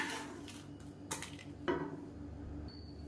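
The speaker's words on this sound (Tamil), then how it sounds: "இது வந்து மிக்ஸி ஜாருக்கு மாற்றிக்கலாம்." Cooked, cooled chutney ingredients being scraped and tipped into a mixer jar, a few scattered metallic clinks and clatters of a spoon against the jar in a quiet kitchen.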